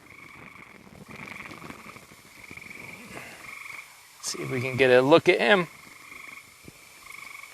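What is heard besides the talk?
great tree frog croaking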